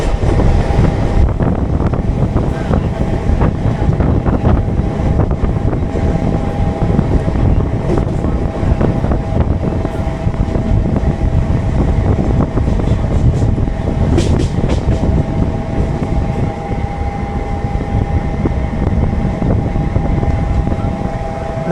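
Mumbai Harbour Line local train running on the tracks as it approaches Kurla station, a loud, steady rumble with wind roar and rattling throughout, heard from inside the carriage.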